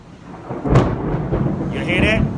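Thunder from a lightning storm in Texas, a deep rumbling crack followed by rolling low rumble, fairly loud and close, with no talk.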